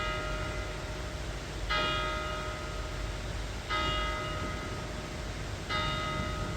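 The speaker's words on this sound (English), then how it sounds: "You can hear the church bells going as we speak here." Church bells ring in a village in three evenly spaced strikes about two seconds apart, each bright ringing tone hanging over a steady background hum, with no one talking.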